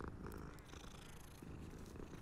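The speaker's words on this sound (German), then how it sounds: "Katze!" A cat in the Hogwarts Legacy video game purrs close up in a soft, continuous rumbling rhythm, faint in level and with no voices.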